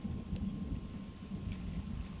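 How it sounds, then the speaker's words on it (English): In the fishing game Dredge, steady rain hisses under a low, rumbling thunder, with faint droplet patters on top. It sounds moderately quiet and continuous, with no voices. "oh, it's rainy"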